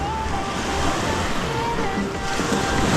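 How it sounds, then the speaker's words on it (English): Ocean waves breaking on a beach at low tide at Virginia Beach, a loud, steady surf roar with strong wind buffeting the microphone and faint traces of voice underneath. "And these waves are breaking all the way up there."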